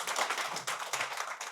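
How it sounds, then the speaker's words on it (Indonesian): A small group claps in a quick, uneven patter of hand claps at a moderate distance, brief and fairly quiet, with no talk over it. "Tepuk tangan dong,"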